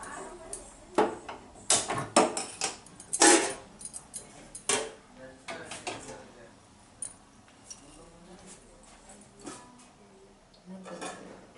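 A cooking pot is set onto a stove in a home kitchen, with several close metallic clanks and clinks of pots and utensils under ongoing talk.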